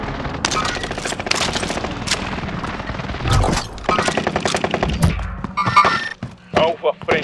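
Gunfire in Call of Duty: Warzone: rapid automatic bursts and heavy thudding shots close by, broken by short pauses, with someone talking over parts of it.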